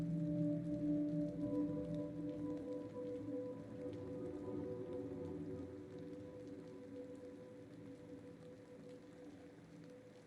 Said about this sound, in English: let the rain go by.